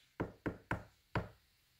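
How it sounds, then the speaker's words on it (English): Knuckles knock on wood inside a reportedly haunted house, giving four sharp, close raps: three evenly spaced, then a short pause and a fourth, each with a brief hollow decay. "we're going to knock on the wood"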